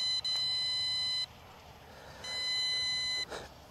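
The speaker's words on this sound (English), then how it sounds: "That must be low battery beeping." Two long, high-pitched electronic low-battery warning beeps from an MJX Bugs 16 Pro drone sound with a pause between them, steady and insistent over quiet outdoor background.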